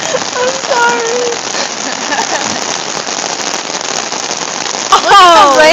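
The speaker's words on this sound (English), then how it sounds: "Look at how much rain." Heavy thunderstorm rain pours steadily and loudly onto surfaces and an umbrella close by, a dense continuous hiss throughout. Voices talk over it briefly at the start and again at the end.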